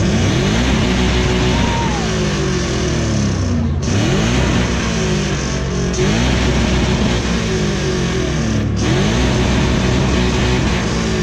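A heavily modified 5-litre V8 car exhaust revs hard at a supercar sound-off, loud and close, holding a roaring drone with a few brief lifts off the throttle and no talk.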